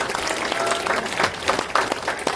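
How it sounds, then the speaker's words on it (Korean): Audience applause at a lecture during a Songpa veterans' association security forum, a steady dense clapping from a seated crowd filling the room, continuous and fairly loud without pause. "큰 박수 부탁드리겠습니다"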